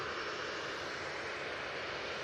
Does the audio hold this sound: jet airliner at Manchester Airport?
yes